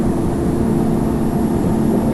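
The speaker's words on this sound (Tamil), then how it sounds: "இப்போது டேக் ஆஃப் பண்ணதுக்கப்புறம் ஒரு குறிப்பிட்ட தூரம் நம்ம மேலே வந்த உடனே கியரை ரிட்ராக்ட் பண்ணிக்கலாம்" An airplane climbs after takeoff in a mobile flight simulator game, giving a loud, steady, close engine drone with a low hum that stays constant throughout.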